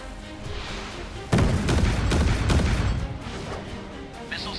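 Warship missile launch in the mobile naval game Warship mobile 2, a sudden loud blast with a roaring rush that fades over a couple of seconds, following a low rumble.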